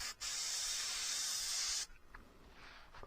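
Iwata airbrush with a 0.35 nozzle spraying pre-thinned black paint, a close, steady hiss that runs for under two seconds after a brief gap, then stops, leaving a quieter background.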